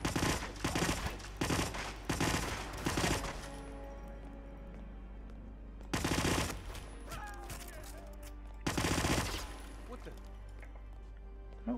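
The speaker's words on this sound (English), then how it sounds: "How many bullets have we fired at this guy?" Gunfire in the video game Hitman (2016) comes in three loud rapid bursts of repeated shots, separated by quieter stretches of game ambience, with a person talking over the action.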